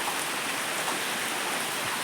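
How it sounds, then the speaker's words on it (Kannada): Heavy rain falls outside a house, a loud, dense, unbroken hiss of water with no break and no voices. "ಹೊರಗಡೆ ಫುಲ್ ಮಳೆ ಗೈಸ್, ಮಳೆ ನೋಡಿ"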